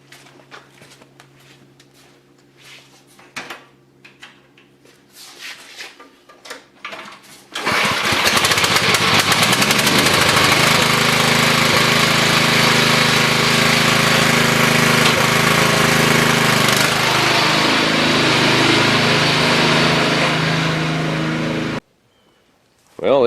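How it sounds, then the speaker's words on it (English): A Craftsman riding lawn mower cranks with scattered clicks, then bursts into a loud, steady engine roar that runs close and unbroken before briefly cutting out near the end. "Let's fire it up and drive it away."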